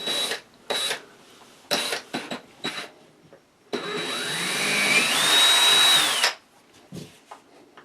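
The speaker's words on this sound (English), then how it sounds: "I'm going to start drilling in flat to the curve" Power drill whirring through a wooden surface in a long, steady run with pitch shifts, preceded and followed by short clicks and handling knocks, close up and alone.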